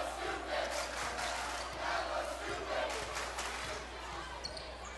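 Student cheering sections at a high school basketball game keep up a continuous crowd chant that rises and falls rhythmically, with sneaker squeaks and ball bounces from the court beneath it.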